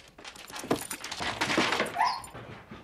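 Dog whimpering and yipping in a horror movie scene, a string of soft, high whines close by at low volume.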